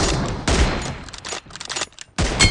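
Rapid bursts of video-game gunfire from BGMI/PUBG in a team deathmatch, loud and close, with dense fusillades broken by short gaps and no talk.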